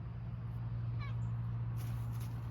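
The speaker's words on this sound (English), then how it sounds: "That mean old kitty." Short cat meow on an Alaskan homestead, one brief high call over a constant low electrical hum, followed by faint higher noises, no clear talk.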